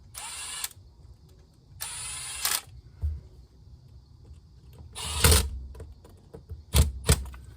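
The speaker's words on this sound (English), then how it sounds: "we're tightening up the diaphragm now" Short whirring bursts from a small power tool or driver, then brief metallic clicks and clatters, tightening the carburetor diaphragm on a leaf blower during a rebuild with new gaskets; close and fairly loud, no talk.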